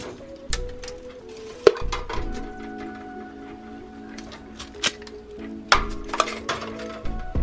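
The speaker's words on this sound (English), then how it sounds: "Go ahead and load the jars into the pot," Glass jars clink and knock against a metal pasta pot as they are loaded, with sharp clinks over a steady low hum.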